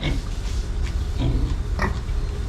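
A farm pig grunts and oinks in a few loud, close bursts over a steady low rumble of background noise.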